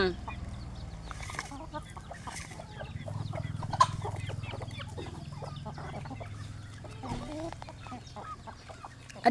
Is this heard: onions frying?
no